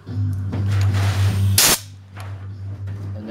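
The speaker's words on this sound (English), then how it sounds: "Make sure you blow these out with the air hose." A compressed air hose blows out Harley Davidson oil line fittings in one short, sharp hissing blast over a steady low machine hum.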